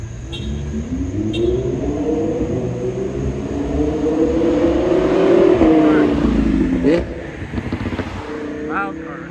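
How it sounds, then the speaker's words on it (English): A loud car drives past on a city street in New Haven, its engine rumble swelling to a peak and then fading, with a voice speaking over it. "Loud car."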